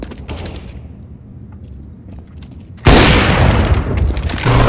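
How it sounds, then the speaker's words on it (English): A grenade blows up in Counter-Strike: Global Offensive on the Cache map, a sudden loud, broadband boom that follows quieter game sounds and then holds for almost two seconds as a heavy rumbling roar. "Grenade out."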